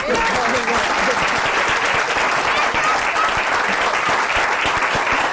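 A village audience in Asiegu, Cabrales, breaks into dense, loud applause, many hands clapping steadily and without pause throughout.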